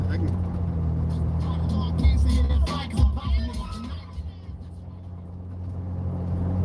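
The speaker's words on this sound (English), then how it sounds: "I love driving my Jeep" A Jeep driving around town, its engine a steady low drone at close range with a brief rise in the middle, while a person talks over it.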